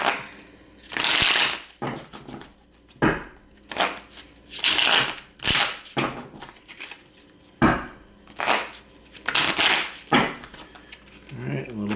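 A deck of cards is cut and shuffled by hand, with repeated crisp riffling bursts separated by short pauses over about twelve seconds, close and clear.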